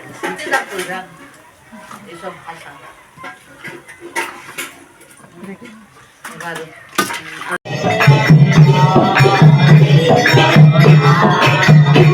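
Luchi frying in hot oil at a household puja cooking session: a steady, loud sizzle starts abruptly partway through and continues, preceded by clinking utensils, with someone talking throughout.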